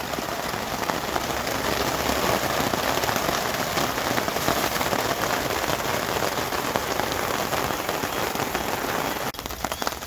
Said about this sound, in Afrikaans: soos stortreën